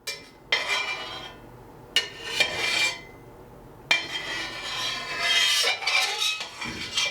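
A knife works through fresh homemade feta curd in a pot, with several separate scraping, clinking passes of the metal blade, crisp and close, and quiet gaps between strokes.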